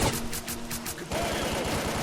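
Rapid gunfire in STALKER Call of Pripyat, a steady rhythm of sharp shots near and far, growing denser and louder partway through.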